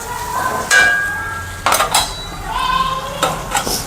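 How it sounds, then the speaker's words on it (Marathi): Onions being fried in oil in a pan, with a few loud metallic clanks and scrapes of a spoon against the pan over a soft sizzle, close up and without speech. "यामध्ये कांदे टाकून घेते, कांदा थोडासा लाल होऊ देते।"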